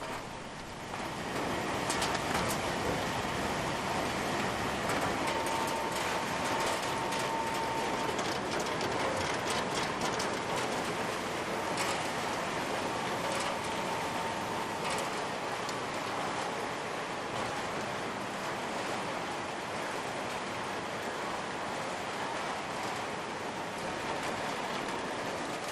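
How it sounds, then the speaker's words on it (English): Industrial machinery washing, separating and grading Galician mussels, a dense, steady wash of rattling shells, clattering mechanisms and running water, loud and unbroken throughout. "Mussels are then mechanically washed, separated, graded, and then debearded before being manually sorted"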